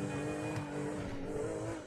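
The player's old car drives in Grand Theft Auto Online, its engine a steady, close, loud roar with a hint of tire noise.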